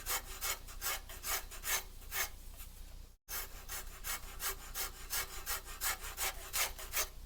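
A wood rasp shapes a cabriole leg in steady, rhythmic back-and-forth strokes, a coarse scraping rasp repeated about twice a second, close up, with a brief pause midway and no speech.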